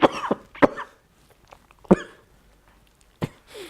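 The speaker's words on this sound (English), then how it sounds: "That cough, you know what that is?" A man coughs in short, harsh bursts, about five separate coughs with quiet gaps between them, close and dry, with no talk.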